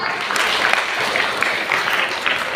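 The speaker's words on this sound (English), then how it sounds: "Clap for her." Students clapping for a classmate during a science lesson in a classroom, a brief, dense burst of applause from a group of children, fairly loud and steady, with a few sharper claps standing out.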